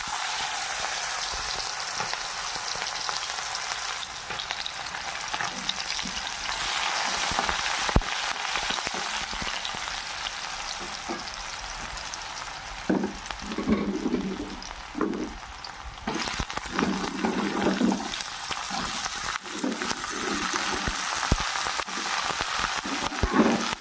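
Spices sizzle steadily in plenty of hot oil left over from frying pabda fish, a constant crackling hiss with occasional stirring taps and clinks.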